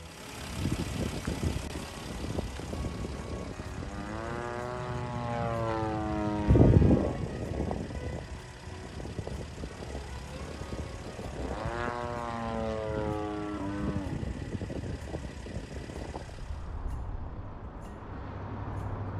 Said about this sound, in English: That guy was flying that plane pretty good. That's one of the bigger models,